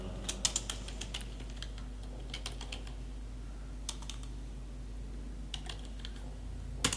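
Keys clatter on a computer keyboard in short quick bursts, crisp and close, while someone types a word into a Microsoft Access database, with quiet pauses between the runs of strokes and no speech.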